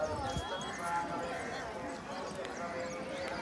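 Horse hooves clip-clop on a family horse ride during a trip to Mantralaya, a steady light rhythm running under continuous talk and background chatter.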